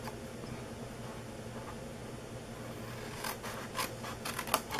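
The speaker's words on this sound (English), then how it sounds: "we are going to cut up this score mark right here to this center score mark" Cardboard cupcake box being cut along a score mark with scissors, quiet steady snipping and scraping close by that turns into several sharper, brisker cuts near the end, with no talking.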